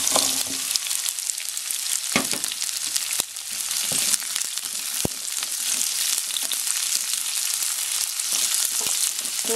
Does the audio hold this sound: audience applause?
no